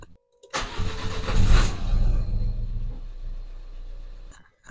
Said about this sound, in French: Je vais démarrer le véhicule.